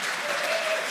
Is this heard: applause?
yes